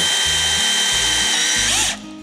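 A power drill bores through wall tile, its high motor whine steady and loud for about two seconds before winding down, with faint knocking underneath and no speech.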